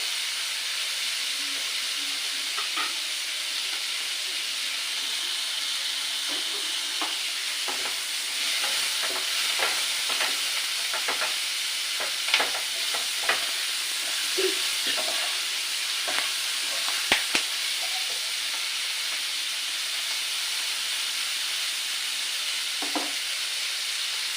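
Shrimp and fish frying in a pan for chowmein, with a constant bright sizzle and frequent clicks and scrapes of a spatula stirring, close by and without any voices.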